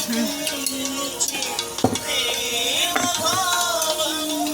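A spoon stirs broad beans paruppu sadham in a pot, with scraping and soft clattering strokes over a low cooking hiss and some background sounds.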